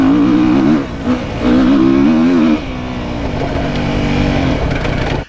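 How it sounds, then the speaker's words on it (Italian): A 2017 Beta Enduro RR four-stroke motorcycle revs in third gear, with quick throttle blips rising and falling, then a steadier drone, loud and close. "È prontissimo, adesso sono in terza, basta sfiorare il gas,"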